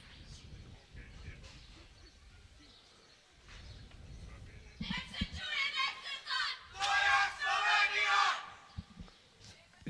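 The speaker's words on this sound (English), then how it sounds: "Just hear Slovenian chanting." Slovenian fans chanting in the stands at a youth archery gold medal final, a faint murmur early on that swells into loud rhythmic crowd chanting in the second half.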